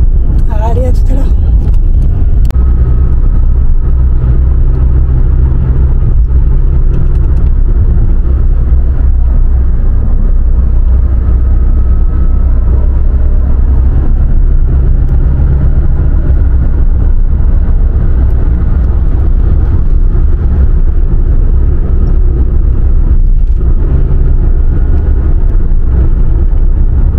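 A car drives along a road toward a bakery, with a steady low rumble of engine and tyres and some wind buffeting, while a person talks over it.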